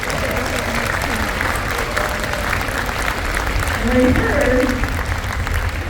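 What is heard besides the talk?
audience applause for teachers at concert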